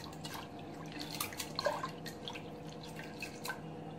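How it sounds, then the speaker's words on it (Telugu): Lentils (dal) being rinsed in water in a kitchen, with soft drips, splashes and light sloshing trickling steadily at close range without talk. "ఇప్పుడు మనం పప్పు కడిగేసి ఇది కుక్కర్ పెట్టేద్దాం"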